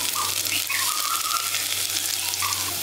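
A spoonful of chopped garlic fries in hot oil in a wok for village-style Chicken 65, a constant close sizzling hiss with faint whistling tones rising above it, and no talking.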